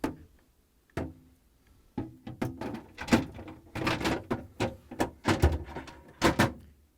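A GE refrigerator vegetable drawer is set on its rear rollers and pushed in along the rails, giving a close series of sharp plastic clacks, knocks and rattles that bunch together toward the end.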